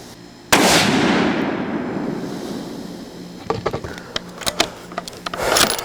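A single loud 6.5 Creedmoor rifle shot cracks outdoors and its rumble fades over a couple of seconds, followed by a few small clicks and knocks of handling.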